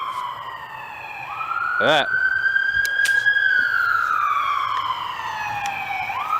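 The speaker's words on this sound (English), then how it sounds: "Ambulance." An emergency siren wails steadily nearby, its tone sliding slowly up and down over a long stretch while traffic rumbles underneath. One person speaks briefly.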